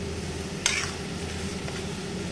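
Chicken curry with spices frying in a pan: a low, steady sizzle under a constant background hum, with one sharp spoon clank near the start and a fainter scrape later.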